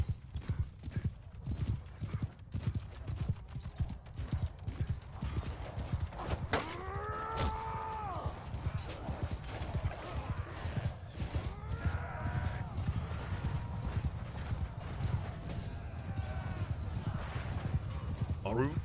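Cavalry horses in Bannerlord, a Lord of the Rings mod battle, pound along in rapid clip-clopping hoofbeats with several whinnies rising over them, while someone talks throughout.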